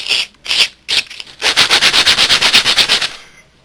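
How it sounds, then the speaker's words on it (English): Sandpaper rubs back and forth on a plastic LEGO brick, giving a few separate scrapes and then a fast, even run of about a dozen rasping strokes, close and loud with no talk. "take your sandpaper and run it up and down it a few times like this"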